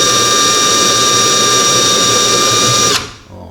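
A power drill bores a hole for a RAM mount for a Raymarine Dragonfly 4, whining at a steady high pitch for about three seconds before it cuts off abruptly and leaves quiet room noise.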